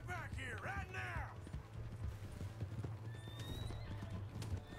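Horse hooves clip-clopping and a horse neighing in the Red Dead Redemption 2 video game: a loud whinny at the start, then steady close hoofbeats, with faint mechanical clicks near the end.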